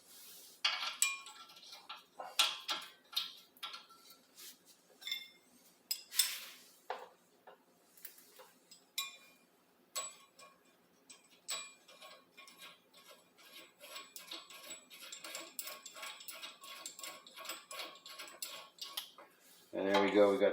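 Metallic clinks and ratcheting clicks while a bolt and nut are tightened on the brake of a 2018 Hyundai Elantra, sharp irregular taps with quiet gaps, close and fairly faint.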